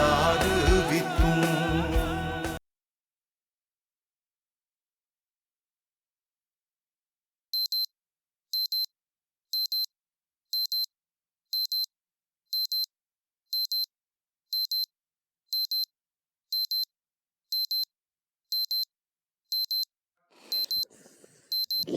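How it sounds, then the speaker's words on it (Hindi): An alarm clock goes off in a quiet room after some earlier muffled noise, sounding a series of regularly spaced, sharp electronic beep bursts, about one per second, clear and close, with a faint rustle at the end. "मेरा अलार्म नहीं है, तुम्हारा अलार्म बज रहा।"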